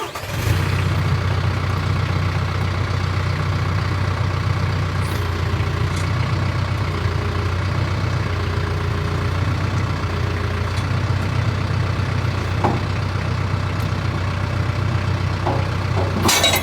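Tractor engine running steadily while its hydraulic cylinders bleed through, a constant low idling rumble with a few faint clanks.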